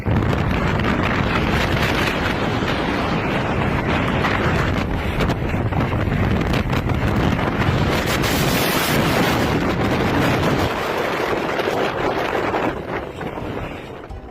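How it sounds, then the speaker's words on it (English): Tornado winds at outdoor swimming pools in Commerce City roar and buffet the microphone in loud, continuous gusts, easing slightly near the end. "Está un tornado aquí en las albercas"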